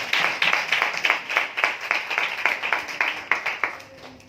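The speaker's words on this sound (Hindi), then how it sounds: "हम दो जोरदार तालियों का स्वागत करें" A small church gathering claps in a run of sharp, distinct, moderately near hand claps with a fairly regular rhythm, a few hands at a time rather than a full roar.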